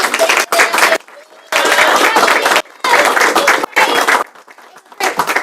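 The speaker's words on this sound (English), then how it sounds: "I want to give my first graders a big round of applause" A school board meeting audience gives a round of applause for first graders, bursts of clapping rising and falling in several waves, fairly loud and close, with short pauses between them.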